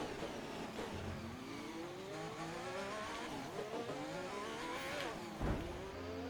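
Race cars in the F1 2021 video game scream past in an online race as a rival brake tests the player, rising and falling engine whines with tire squeal, and a sharp thud near the end.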